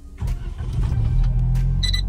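A Suzuki Alto Works HA36S engine starts up, a brief cranking burst followed by a steady low idle rumble, heard close and alone without talking.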